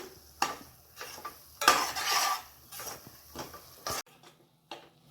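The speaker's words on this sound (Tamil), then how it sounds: "நல்லா கிண்டி கொடுத்தாச்சு." Masala of chilli powder, poppy seeds and pepper stirred in a pan for a chicken pepper fry, a spoon scraping and clinking against the metal in irregular bursts, close and fairly loud, then a quieter pause near the end.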